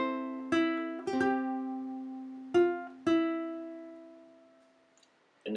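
Four ukulele chords from a song are strummed alone in a quiet room, each bright strum left to ring out and fade before the next, with a long decay at the end.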